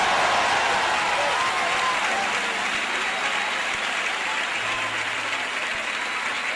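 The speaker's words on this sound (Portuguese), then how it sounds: "aplauda ao Rei Jesus" A church congregation applauds during a worship service, a loud, continuous wash of many hands clapping that holds steady throughout, with a crowd murmur underneath.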